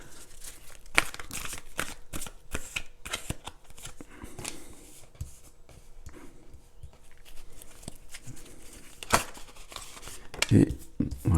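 Tarot cards shuffled by hand for a daily reading, a run of soft papery riffles and flutters with a few louder snaps, close up, while a person talks intermittently.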